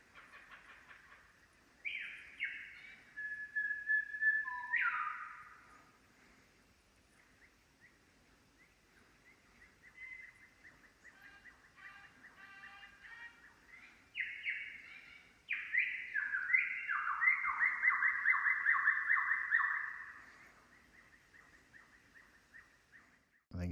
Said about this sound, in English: There's some awesome bird sounds happening at the moment.